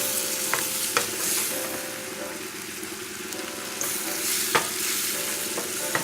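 About half a pound of head-on shrimps frying Cajun/Creole style in a pan give a steady close sizzle, broken by sharp scraping clicks as they are stirred and turned.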